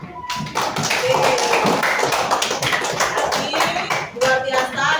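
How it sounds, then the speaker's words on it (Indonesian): Schoolchildren clap together in a classroom, a dense, loud burst of hand claps that starts abruptly and keeps a steady roar for about five seconds before thinning slightly near the end. "Kasih tepuk tangan dulu."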